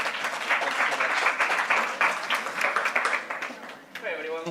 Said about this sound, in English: Can I have a big applause for Alejandro from Odos?